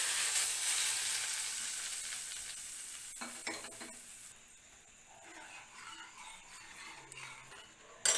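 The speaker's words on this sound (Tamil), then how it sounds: "ஒரே காஞ்ச மிளகாய், பெருங்காயத்தூள். இப்போது இதை நம்ம இந்த சாம்பாரில் சேர்த்துடலாம்." Dried red chili and asafoetida tempering sizzles loudly in hot oil before being poured into sambar; the hiss fades gradually, then a brief clatter and quieter bubbling follow, ending in a sharp clink.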